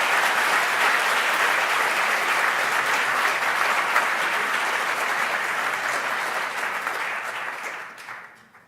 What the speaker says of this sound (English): So one round of applause for the winners of the Jury Demo Award.